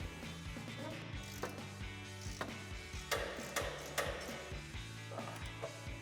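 A 14mm socket and ratchet loosening stubborn front upper control arm bolts on a Toyota Tacoma, heard as faint, irregular clicks and sharp taps over a steady low hum.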